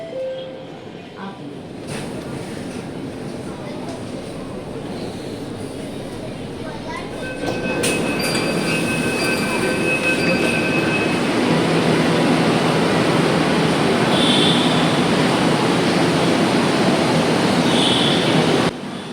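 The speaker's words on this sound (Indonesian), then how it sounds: "Jadi ya kita naik metro aja walaupun cuma satu stop." Ride aboard a Mumbai metro train: steady loud rumble of the carriage that swells as the train speeds up midway, with faint rail squeals and tones, while a voice speaks over it.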